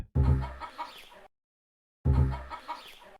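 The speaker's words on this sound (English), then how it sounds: "there is a sound clip of a chicken that plays" A recorded chicken clucks in two short bursts, separated by a second of silence, in a Nintendo Switch farming game.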